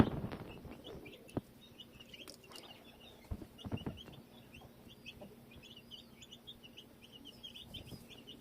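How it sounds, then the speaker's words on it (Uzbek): Young chicks peck at scattered grain in hot weather, with soft repeated peeping and cheeping throughout, some low clucks, and scattered light taps and knocks nearby. "Jo'jalar sekin tutib bu narsani yeb yuribdi, don sepib qo'ydim jo'jalarga."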